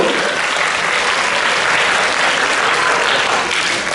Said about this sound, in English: Let's give a round of applause for Devin and Crystal.